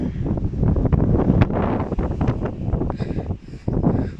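Strong storm wind in Luderitz buffets the microphone outdoors, a loud, continuous roaring rumble with gusty surges and rustling throughout, no voices.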